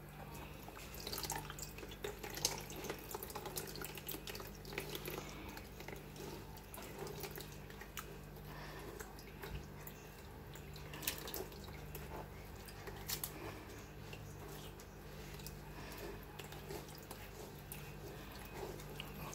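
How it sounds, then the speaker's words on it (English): Water runs from a tap into a pot of yellow pap (akamu, ogi) in a faint, continuous trickle and splash lasting the whole stretch, with light clinks and no talking. "I'll be adding more water."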